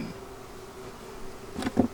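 A bee buzzes close by at an open beehive, a faint steady hum that swells into a couple of louder, nearer buzzes at the end.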